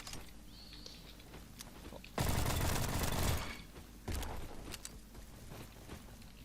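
M16 rifle gunfire in the Roblox shooter Bad Business: a loud burst of rapid automatic fire lasts about a second, then a second shorter burst follows, with quieter scattered game sounds around it.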